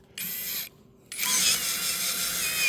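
A 12-volt cordless drill drills into a steel rail, its whirring bit grinding against the metal in a short burst, a pause, then a longer steady run, close and alone.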